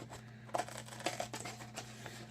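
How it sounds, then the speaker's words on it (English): Scissors snip through a frosted vinyl cutting mat in a few quick crisp cuts with faint crinkling, close and fairly quiet over a steady electrical hum. "You hear my paper cutting?"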